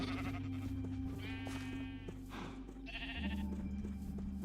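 Sheep in the Minecraft video game bleat in two short, wavering calls heard over steady background music, moderately quiet, with no talking.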